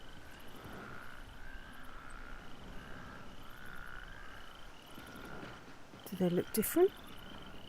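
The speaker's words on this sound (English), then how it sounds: "And notice that the frogs sound different here." Frogs croak in a rhythmic, repeated chorus with crickets chirping, a quiet ambient loop in the video game Skyrim VR, and someone speaks briefly near the end.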